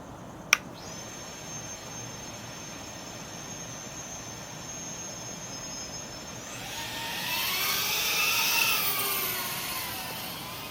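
A tiny 1S cinematic FPV drone with a JHEMCU GSF405A flight controller gives a thin, steady high-pitched motor whine after a sharp click, then throttles up into a louder, wavering buzz as it flies off; no talking.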